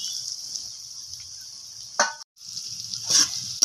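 Fried cauliflower stirred with spices and soy sauce in a pan gives a soft continuous sizzle, broken by a couple of sharp scraping stirs and a brief pause before the frying hiss resumes.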